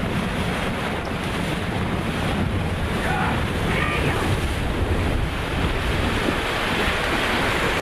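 Steady rush of wind buffeting the microphone over lapping water and surf as a Seaclipper 20 trimaran sails in the Florida Keys, continuous and loud throughout with no voices.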